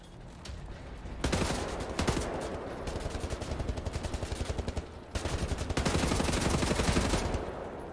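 Rapid automatic gunfire blazes in Wolfenstein: The New Order during a fight with super soldiers, two long loud sustained bursts of dense rattling shots separated by a brief pause, with no talk over them.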